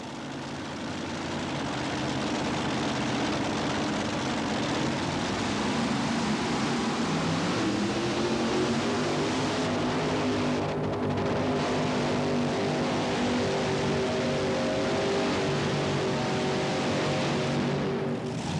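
Drag racer powered by five Rodeck engines at a 1988–89 Red Man series drag race, a sustained loud engine roar that holds steady throughout, with pitch rising partway through as the engines rev.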